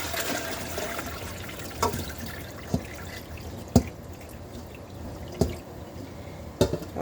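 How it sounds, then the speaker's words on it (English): Water drains from broccoli after it has soaked in saltwater brine, a soft trickle under intermittent sharp drips and splashes landing close by, with no talking. "now that our broccoli has been sitting in our saltwater brine for 30 minutes, we're now gonna drain it."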